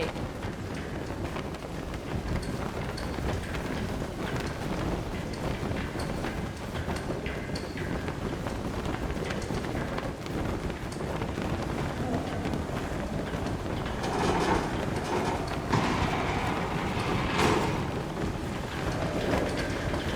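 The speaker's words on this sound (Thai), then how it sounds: "ลมแรงมาก" Strong wind roars in the video game Somerville, a loud, steady gusting rush that swells and buffets near the end, with no voices.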